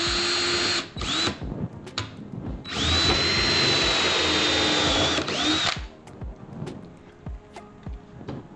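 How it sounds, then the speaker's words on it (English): Power drill bores a pilot hole through the plastic wall and foam of a cooler, with several short bursts then a long sustained whine that dips in pitch before stopping, followed by faint clicks and handling noise. "you want to make sure that you're drilling straight through, but not all the way through the cooler"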